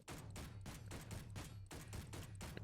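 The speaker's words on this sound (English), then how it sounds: "Let's see how the pistol does again" A pistol fires repeatedly in the space-combat game Space Engineers: about six sharp, punchy reports in an uneven rhythm, each ringing off with a short tail, loud and close with no voice over them.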